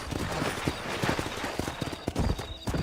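Horse hooves pounding in a fast gallop in the video game Red Dead Redemption, loud rhythmic clip-clop close up with a brief whinny mixed in.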